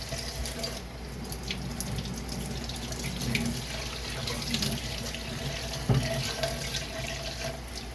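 Water runs steadily from a tap into a sink while glass gallon jugs are rinsed, a continuous hiss and splash with occasional clinks of glass.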